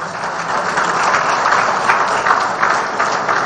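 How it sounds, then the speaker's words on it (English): An audience at a groundbreaking ceremony claps in a steady, dense round of applause, a broad, even patter that holds at moderate loudness without voices. "I think a bigger round of applause will convince her."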